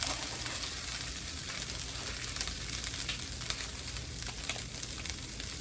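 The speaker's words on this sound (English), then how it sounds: "if y'all can hear how it's popping" Steady crackling sizzle of rice frying in a hot pan, with dense popping and spitting throughout, close and fairly loud, no talking.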